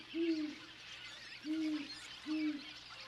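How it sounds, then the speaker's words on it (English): Great horned owl on cliffs hooting three times at an even pace, each a low, soft hoot with clear gaps of background hiss between. "Great horned owls share these cliffs."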